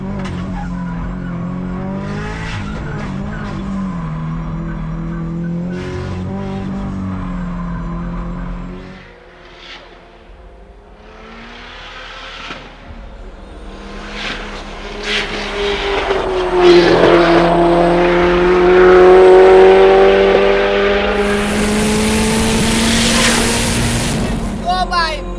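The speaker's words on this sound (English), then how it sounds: "So we did our first hot lap." A Subaru STI race car on a hot lap, its engine rising and falling through the gears with tire squeal near the end. The engine is loud and close, drops briefly, then climbs hard to a high-pitched scream.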